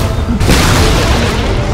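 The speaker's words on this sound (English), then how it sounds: "Radiant's middle tower has fallen" A tower collapsing in Dota 2, a loud booming crash followed by sustained rumbling debris, with game announcer-style narration faintly mixed in.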